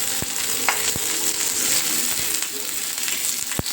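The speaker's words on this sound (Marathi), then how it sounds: "हे लसूण, जिरं, हिरवी मिरची हे आता आपण हे एकत्र असं थोडं भाजून घेऊया" Garlic, cumin and green chilies roasting together in a hot pan for misal masala, giving a steady close sizzle with a few sharp clicks from stirring.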